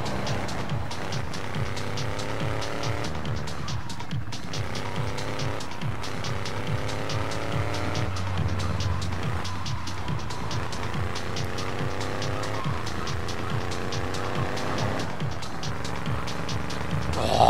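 A car drives in the video game Grand Theft Auto 3 with a continuous engine drone that rises and falls as it shifts and turns, loud and steady throughout.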